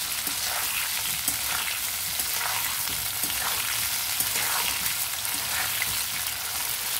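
Cauliflower florets deep-frying in hot oil over a high flame give off a steady, loud, dense sizzle and crackle that runs without a break, with faint stirring clicks underneath and no voices.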